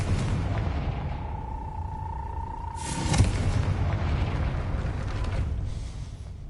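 A Confringo fire spell bursts in Hogwarts Legacy: a steady whistling tone gives way to one loud, broad blast partway through, then a rumbling tail over constant game ambience.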